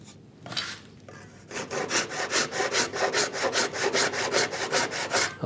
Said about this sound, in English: It's very nice, the cherry, just cuts so easily.